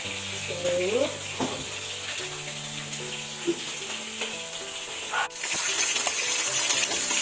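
Onions and alamang shrimp paste sizzle and fry in a pan at home, a steady hiss running throughout with occasional stirring clatter and faint background tones.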